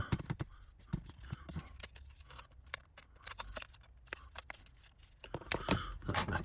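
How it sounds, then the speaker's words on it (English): Sharp snips and clicks ring out irregularly as old bulbs are cut out of a scrap model coach, close and dry, with quiet gaps between the cuts. "So I shall just cut those out quickly."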